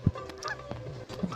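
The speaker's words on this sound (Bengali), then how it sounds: "হাঁসগুলা বারবার আমার দিকে আসে" Cartoon geese honk in a short, sharp burst at the start, followed by scattered quieter squawks and another honk near the end, all close and clear with no talking.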